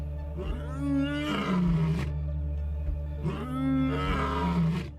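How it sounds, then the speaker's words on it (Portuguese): An African lion on the savanna gives two long, deep, throaty roars, each swelling and fading over about two seconds. They are close and powerful, with no voices. "O rugido de um leão pode ser ouvido a quilômetros de distância"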